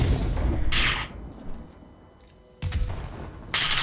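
A grenade goes off in a tactical shooter match, two sharp broadband bursts, one early and one near the end, with low rumbling game noise between them and no talking.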